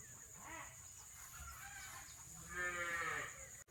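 A cow lowing in a misty village among rice fields, with two drawn-out calls, the second louder and longer, heard at moderate distance over quiet outdoor ambience.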